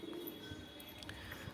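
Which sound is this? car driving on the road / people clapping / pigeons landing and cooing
pigeons landing and cooing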